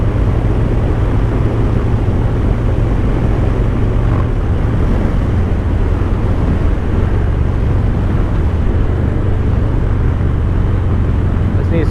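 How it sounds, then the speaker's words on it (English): Harley-Davidson M8 engine on a Low Rider or Street Bob while riding, a loud steady low rumble with heavy wind roar on the microphone throughout, no clear talking. "You twist the throttle and the bike goes"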